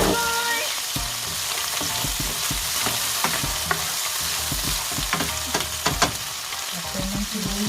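Onion frying in a hot pan for Filipino ginataang manok sizzles steadily and loudly throughout, with scattered scraping and stirring clicks from a utensil against the pan.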